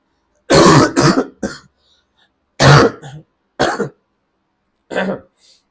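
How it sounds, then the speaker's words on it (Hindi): Several harsh coughs in bursts, a cluster of two or three, then single coughs separated by short silences, loud and close. "खांसी बहुत परेशान की है।"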